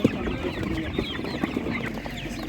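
Chickens cluck at an animal market, a busy overlapping chorus of short clucks and calls from several birds nearby, with steady market background noise beneath.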